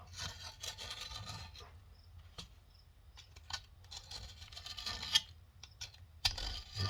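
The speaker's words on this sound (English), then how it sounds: "Give it a little scrub." Brush scrubbing grime off tractor final drive parts during a Mahindra 5010 teardown, faint rough rasping strokes in an irregular rhythm, close by and quiet.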